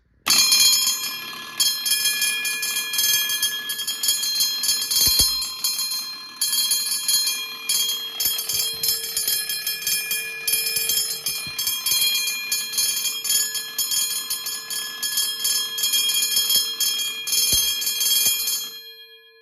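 A 120-volt electric fire alarm bell rings steadily and continuously, a bright metallic clatter with sharper strikes now and then as it hits the gong every fifth stroke, close and loud, no talking.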